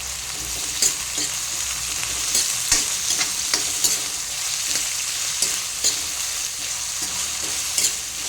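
Green chillies being stirred into chole masala in a hot pan, with a steady sizzle of frying and soft repeated scraping taps of a spoon against the pan, close and continuous with no talking.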